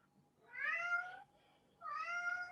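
A house cat meows twice, two drawn-out, fairly clear calls with a short pause between, close by in an otherwise quiet room.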